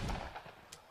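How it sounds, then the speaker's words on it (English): A heavy sniper rifle shot in a Fortnite tournament match, heard as a faint, brief crack followed by a short decay in the distance. "just taking long-range shots of that heavy snipe."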